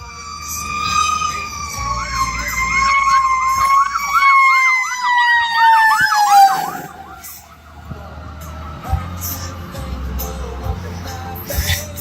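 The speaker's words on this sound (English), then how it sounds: "Got a fire truck coming." A fire truck siren approaches during a hurricane response. It wails loudly and close, rising and sweeping in fast yelping cycles before dropping away, with a low engine rumble beneath.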